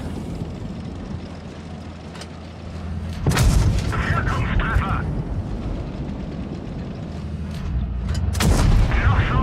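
Tank cannon shots in a video game tank battle, a couple of deep booming blasts over a steady rumbling engine drone, with someone talking throughout.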